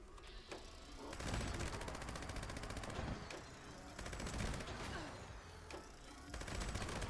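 Rapid automatic gunfire in the video game Fallout 76, long dense bursts of shots fired in close succession with short pauses between volleys, steady and close.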